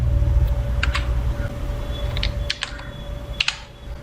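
Keys on a computer keyboard are tapped in short irregular bursts while Hindi text is entered, the clicks close and distinct against a low background hum, with pauses between groups of strokes.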